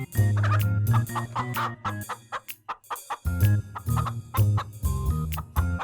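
Several chickens in an animated cartoon clucking and squawking close by in irregular bursts, with short pauses between calls and no talking.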